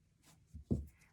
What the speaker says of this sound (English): I'm going to cut right on the fold